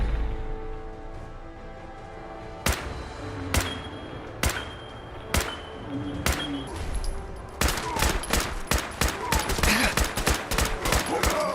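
Gunfire in Fallout 4 on the hardest difficulty: sharp single shots spaced a second or so apart, then a rapid burst of closely repeated cracks, loud and near over a steady background hum, with someone talking quietly beneath.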